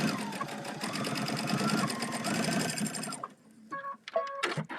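A sewing machine stitches straight across fabric in a fast, steady mechanical chatter for about three seconds, then stops, followed by a few short clicks and bursts of handling noise.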